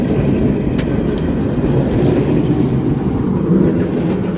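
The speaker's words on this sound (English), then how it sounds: "We're gonna get on this trolley and we'll try to film out the front here." New Orleans streetcar trolley in motion, a loud steady rumble of wheels and car noise from on board with occasional faint clicks, no talking.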